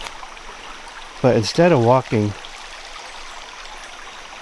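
A creek along the Georgia Traverse Trail flows with a constant, close rushing hiss, while someone speaks briefly over the water.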